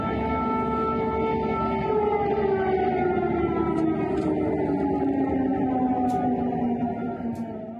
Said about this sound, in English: Ukrainians today woke up to air raid sirens for the first time in months.